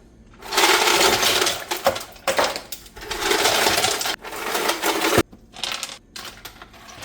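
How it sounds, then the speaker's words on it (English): Ice cubes tumble and clatter in bursts onto a kitchen floor while being added to a homemade chocolate horchata, loud rattling spills separated by brief pauses and a sharp crack. "we get to go spill ice all over my damn kitchen floor"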